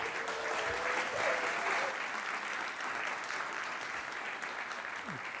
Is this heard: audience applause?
yes